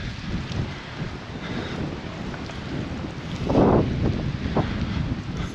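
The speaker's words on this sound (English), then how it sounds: "Now it's getting very windy." Strong wind buffets the microphone in a continuous rumble, surging in a louder gust near the end.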